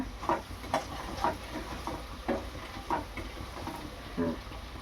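Fresh green cowpeas tipped into hot oil already sizzling with ginger and garlic, a steady faint frying hiss broken by several soft clattering stirs at irregular intervals.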